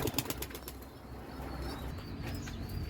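Young racing pigeons flap out of their loft in a short burst of wingbeats at the start, then soft rustling and faint cooing follow at close range.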